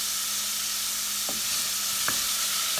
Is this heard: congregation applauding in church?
no